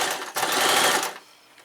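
A Brother LS 2125i sewing machine runs fast and steady as it sews a seam, a close, continuous whirring stitch that stops abruptly after about a second, leaving a faint hum.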